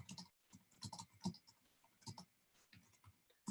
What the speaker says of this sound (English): okay, I'm typing to him.